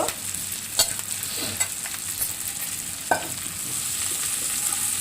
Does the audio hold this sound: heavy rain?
no